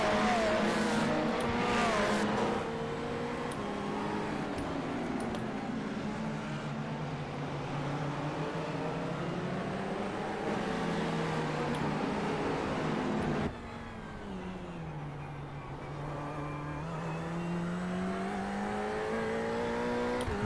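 A Ferrari 488 race car engine at Long Beach in iRacing, roaring loud and close and rising and falling through gear shifts, with brief tire squeal as it brakes and accelerates through corners.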